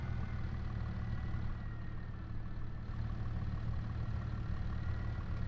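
Tractor engine idling in a logging simulation game, a steady low rumble that holds evenly throughout with no voices over it.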